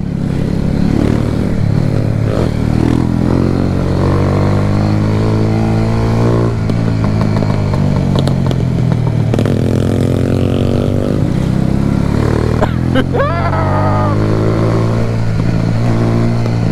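A motorcycle ridden on a Jamaican road, its engine droning loud and close throughout with revving swells and shifting pitch, plus occasional clatter and passing noise.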